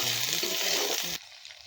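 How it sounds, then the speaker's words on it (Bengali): A pan fries outdoors in a jungle cooking setting as tomato goes in, making a strong, dense sizzle for about a second before it abruptly drops away to near quiet. "এটা ভাজা হয়ে গেছে, এবার এইখানে টমেটো দিয়ে দেবো"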